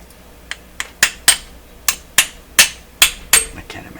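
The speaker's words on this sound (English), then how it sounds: "How about my high school hammer?" A hammer repeatedly tapping a Westinghouse 981X shortwave receiver held in hand, about eight to ten sharp metallic knocks at irregular intervals, close and crisp with short ringing decays.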